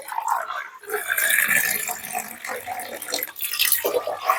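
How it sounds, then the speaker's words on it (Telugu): Water poured into a pressure cooker holding moong dal, a close splashing, gurgling pour that runs continuously with slight surges, no talk. "2 గ్లాసులు వాటర్ వేసి కుక్కర్ పెట్టేసుకుందాం"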